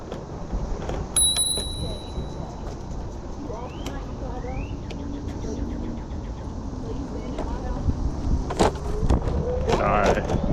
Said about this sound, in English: I rang the bell. I guess I could have rang twice.